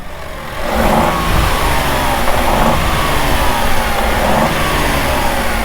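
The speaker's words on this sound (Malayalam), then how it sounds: "വണ്ടിയുടെ എൻജിൻ സൗണ്ട് ഒന്ന് കേൾപ്പിച്ച് തരാം. 3 സിലിണ്ടർ എഞ്ചിൻ ആയതുകൊണ്ട് തന്നെ വണ്ടിക്ക് ചെറിയൊരു ഗ്രണ്ട് വരുന്നൊരു സൗണ്ടാണ്" Three-cylinder engine of a 2025 Maruti Suzuki Dzire VXi manual revving with a steady, slightly gruff drone that stays loud and close throughout, with no talking.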